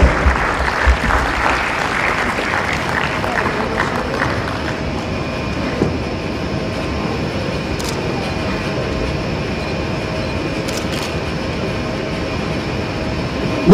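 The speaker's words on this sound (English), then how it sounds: "give me a round of applause" Audience applause at a 2015 Metropolitan College graduation ceremony, a broad steady wash of clapping that is strongest in the opening seconds and then settles into a continuous, even roar, with a faint low rumble underneath.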